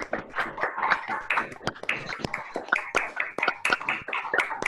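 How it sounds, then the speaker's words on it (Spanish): Scattered applause from an online audience, several people clapping through their own microphones so the claps sound uneven and unsynchronized, with sharp close taps, clipped bursts and brief voices mixed in. "prendamos los micrófonos para darle un aplauso, que escuche el aplauso desde lejos"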